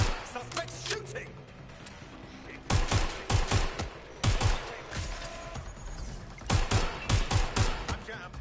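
Gunfire from Watch Dogs Legion comes in repeated loud bursts of rapid shots with short gaps between volleys, set against background game sound.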